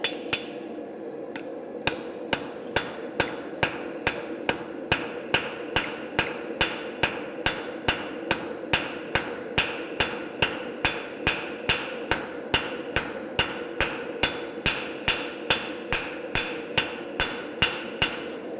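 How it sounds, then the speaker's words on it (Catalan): Steady, evenly spaced metallic taps from a small ball-peen hammer striking metal at a farrier's, dozens of sharp ringing blows in a regular rhythm, close and clear. "amb l'ajuda d'un martell de bola petit"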